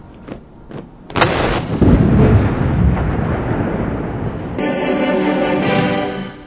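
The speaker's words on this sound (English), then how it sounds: "A 60-gun salute and a flag-raising ceremony kicked off the grand celebration" Cannon fire from a 60-gun salute opens a National Day military parade at Tiananmen Square, heavy booming blasts rolling into a long echoing rumble that stays loud and distant-sounding.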